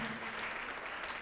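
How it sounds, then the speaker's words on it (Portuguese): Applause from a church audience during a Brazilian televised evangelical program, a steady dense wash of clapping, fairly faint and continuous with no voices over it. "Vamos aplaudir mais ao nome de Jesus"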